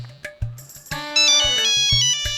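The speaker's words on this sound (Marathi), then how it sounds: "कोणाचा फोन आला?" A phone ringtone rings loudly and alone, a bright electronic melody of repeating tones over a steady rhythmic beat.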